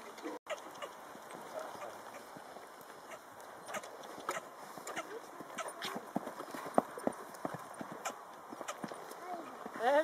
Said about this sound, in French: Alors comment faire reculer un cheval?